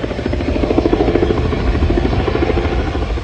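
Television news helicopters hovering above the Florence and Normandy intersection during the Los Angeles riots, a loud, steady rotor thrum with a dense chopping drone throughout.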